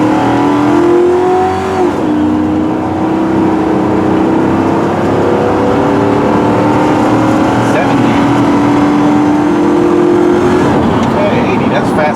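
A 2009 Ford Crown Victoria P71 police interceptor, fitted with an aftermarket tune, accelerates at full throttle with a loud, sustained engine drone that rises in pitch, dips at a gear change, then climbs again.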